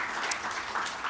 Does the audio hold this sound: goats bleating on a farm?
no